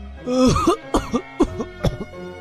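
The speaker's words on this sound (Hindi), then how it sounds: "वो जोर जोर से खांसने लगा" A person coughs harshly several times in quick succession, one heavy cough followed by a string of shorter, rasping coughs, close up.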